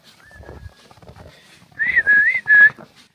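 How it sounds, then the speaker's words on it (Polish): A person whistling outdoors in winter, a long thin steady tone followed by a louder warbling whistle that rises and dips, with soft footsteps and faint rustling between. "na mnie gwizda, sprawdzając, czy żyje."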